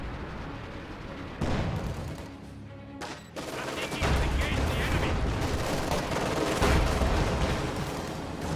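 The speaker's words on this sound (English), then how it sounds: "The field gun doing nice damage to one of the Panzer IVs." Field gun and machine gun fire in a WWII strategy video game, with sustained rattling bursts and heavy booming shots forming a loud, dense battle din throughout.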